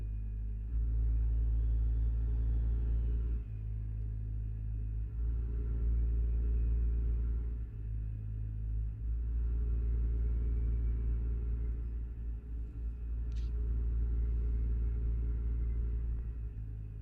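A Caterpillar-engined truck in Euro Truck Simulator 2 holds a steady deep, rumbling engine-brake drone that throbs at a low pitch for many seconds, loud and continuous with slight swells, and no talking.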